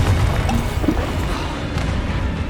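A Confringo fire spell goes off in the Hogwarts Legacy video game, a dense, rumbling blast with low booming weight that rolls on steadily for a couple of seconds, loud and close with no voice over it.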